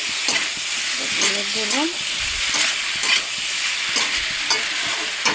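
Small chopped prawns, about 100 grams, fry loudly in a hot pan with a continuous close sizzle and repeated stirring scrapes, while a voice briefly speaks over the cooking.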